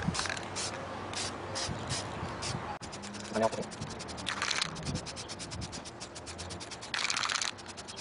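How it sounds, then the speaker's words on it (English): Hissing bursts from an aerosol spray can painting an assembled foam RC model plane outdoors in a breeze, close by, with scratchy rustling and faint wind-like noise between the sprays. "So I'm starting my spraying off the side"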